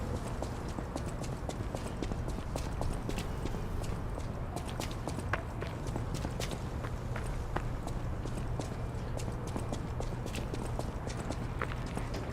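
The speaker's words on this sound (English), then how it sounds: "donkey rides again." Hooves clip-clopping in the game Lies of P, a fast, steady clatter of hoofbeats that runs without pause over a low rumble.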